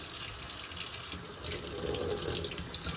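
Tap water runs steadily into a sink as sediment is rinsed out of a filter, a continuous close splashing rush with no pauses.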